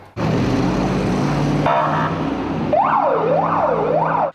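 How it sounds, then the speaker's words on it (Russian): Loud engine and road rumble, then a wailing fire engine siren rising and falling repeatedly, close by. "пожарная машина под звуки сирены мчится на помощь"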